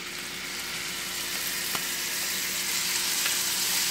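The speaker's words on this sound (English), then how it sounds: "all I put in the skillet is some olive oil and butter. And the pan is hot, so we're just going to go ahead and add that in" Steak sizzling in a hot skillet with olive oil and butter, a steady broadband fry hiss holding throughout at close range, with a couple of faint clicks and no voices.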